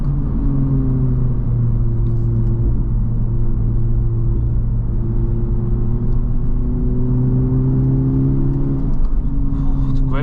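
A 2023 Honda Civic Type R on the move gives a loud, steady engine drone with a sustained mid-low hum and tire rumble, holding an even pitch with a slight shift near the end.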